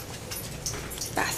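Puppies whimper and pant close by in a short indoor burst, soft high whines rising over breathy panting with a slightly louder yip near the end.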